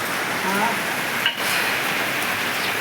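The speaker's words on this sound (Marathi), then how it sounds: "काटमात निघलो की पाऊस चालू झाला." Rain begins falling on a farm field where bullocks stand among sugarcane, and the wind is picking up. It makes a soft, even hiss, close and continuous, with a brief bump partway through.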